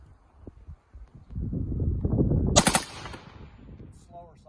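A full-auto burst from a firearm on a range, a dense rapid stream of shots lasting well over a second, loud and close, followed by a sharp crack and fading echo.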